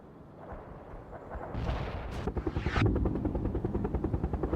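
Mi-24 attack helicopter engaging targets in World in Conflict: rising rotor and engine roar building up, a whooshing rocket streak, then rapid rhythmic gunfire bursts pulsing under the continuing helicopter drone.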